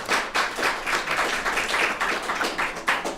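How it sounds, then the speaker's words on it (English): An audience at a conference claps steadily in a dense, even burst of applause, close and sustained throughout with no voices. "please give him a round of applause if you want"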